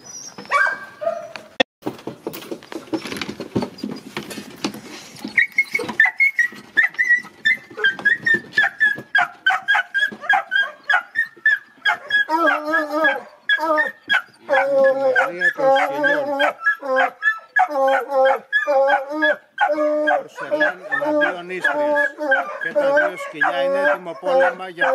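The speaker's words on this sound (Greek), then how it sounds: "Τα σκυλιά κάνουν το κασόνι φρυγανιά μπρος στη μανία για το λαγό." Istrian and Porcelaine hunting dogs in a pack, chasing a hare through scrubland, bay and yelp continuously, starting with scattered calls and building into a loud, dense chorus of overlapping high barks and whines.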